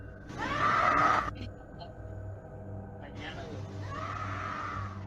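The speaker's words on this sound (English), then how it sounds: "You can hear a woman scream." At night in a nightclub, a woman's scream rises high and strained for about a second, then a second long cry follows, both distant and echoing over low background rumble.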